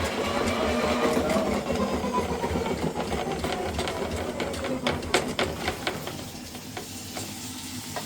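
Inside near the laundry, a drain snake machine runs with a steady mechanical whirring and rattling, its cable churning continuously, then growing a little choppier toward the end.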